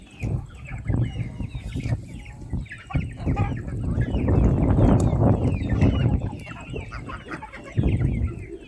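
Chick clucks and chirps fill an outdoor scene as young chicks venture outside the coop, with several birds calling at once in a busy, steady chatter at moderate distance.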